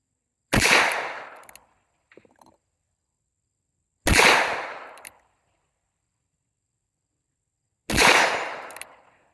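Three loud, sharp gunshots from a rifle called the Speedy, fired at a steel tank plate at evenly spaced intervals of a few seconds, each with a short echoing decay and a faint metallic tick after the first.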